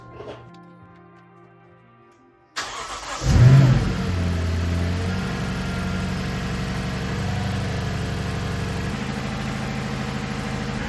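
Lexus LS 460 engine starting after a repair: a short crank and loud catch, then a brief rev that settles into a steady, close idle hum, following a quieter stretch of background noise.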